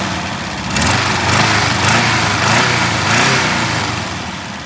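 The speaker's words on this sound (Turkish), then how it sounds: "Aferin aracımızın motoru bu şekilde." The engine of a crash-damaged Tofaş Şahin runs steadily up close, a loud, buzzy drone with slight rises and dips in pitch.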